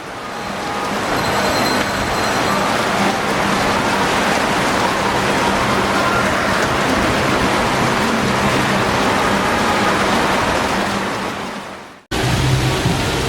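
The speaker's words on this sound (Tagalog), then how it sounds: "Yan guys yung ulan." Steady, dense roar of heavy rain at a water park, loud and continuous for about twelve seconds, then cutting abruptly to a quieter background.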